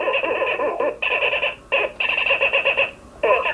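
High, squeaky electronic beeps and chirps from a B-unit droid in quick warbling bursts, with brief pauses between runs, fairly loud and close with no talking.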